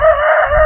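A rooster on a poultry farm raising native country chickens gives a short, loud crow, a single sustained call lasting under a second.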